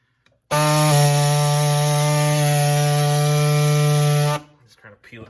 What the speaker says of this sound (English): with this air saw. Make a start cut till you can get your pliers on it.